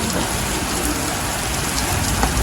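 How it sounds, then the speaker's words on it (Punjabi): Steady rain pours down in a dense, even hiss, close and constant throughout with no voices. "ਸਾਰੀ ਜਿਹੜੀ ਮੀਂਹ ਦੀ ਸ਼ੁਰੂਆਤ ਆ ਗਈ ਆ"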